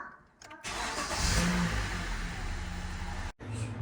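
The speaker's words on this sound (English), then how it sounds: "We'll start the car just to warm the engine up" A 10th-generation Honda Civic engine cranks and catches after a brief pause, then settles into a steady, fairly loud idle for a few seconds before a short cutoff.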